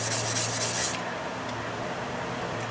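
A Belgian coticule hone being lapped on a lapping plate, giving a close, steady gritty rubbing that is louder and brighter in the first second, then settles into a softer continuous scrape.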